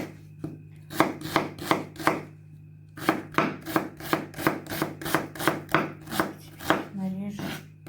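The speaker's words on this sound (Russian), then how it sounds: "сейчас я буду нарезать лук" An onion being chopped with a knife on a board: brisk, evenly spaced chops in two runs separated by a short pause, close and crisp, ending with a brief scraping sweep.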